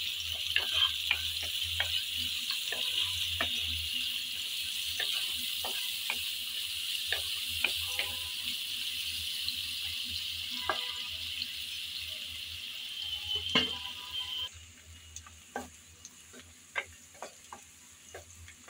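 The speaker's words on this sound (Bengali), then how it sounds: "এখন নেড়ে চেড়ে হালকা করে ভেজে নেব।" Chopped onions fry in a pan with a steady, soft sizzle, broken by frequent scraping clicks of stirring; the hiss drops away near the end, leaving scattered taps.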